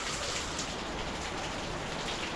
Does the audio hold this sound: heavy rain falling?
yes